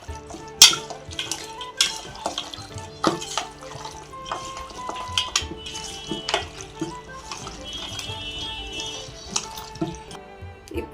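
Mutton marinade of yogurt, salt and masala being stirred in a bowl for biryani, a run of close clinking spoon-on-vessel taps and wet squelching mixed with faint rhythmic kitchen clatter.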